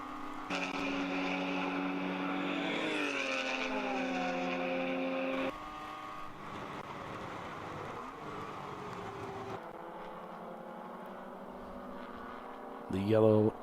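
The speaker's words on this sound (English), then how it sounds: "The yellow Boxster heading down through turns 1 into 2." Race cars, including a yellow Porsche Boxster, running through turns 1 and 2 at Watkins Glen during an endurance race, engines droning and shifting pitch as they pass, with a commentator talking over the track noise.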